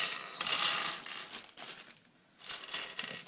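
Plastic pieces of a Dayan Lunhui twisty puzzle being taken out and set down, giving a few light clicks and rattling clatters in short bursts with pauses between, close and quiet.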